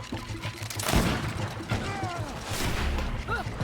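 Gunfire in the fantasy video game Greedfall: a burst of loud shots and crashes around the one-second mark and again later, layered with game effects and a voice talking over it.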